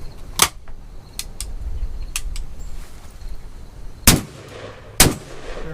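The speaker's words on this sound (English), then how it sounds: "And that is the double barrel shotgun." A double barrel shotgun fired twice, each shot a sharp, loud blast spaced about a second apart, preceded by lighter mechanical clicks and clacks of the action being handled.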